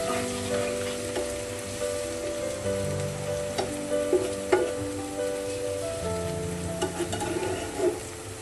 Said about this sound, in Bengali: এখন আমি দিয়ে দিব পরিমাণ মতো পানি